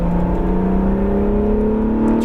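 An Acura NSX engine accelerating at full throttle on a racetrack, a loud, steady rising drone that climbs smoothly in pitch, with no talk over it.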